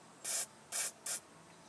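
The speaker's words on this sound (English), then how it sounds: "We'll just take some carb cleaner and get in all these holes and stuff." Three short sprays of carburetor cleaner from an aerosol can into the holes of a whipper snipper carburetor, each hiss sharp and close, about a quarter second long, with brief silences between.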